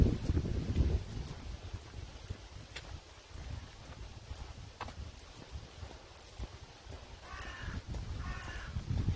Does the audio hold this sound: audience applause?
no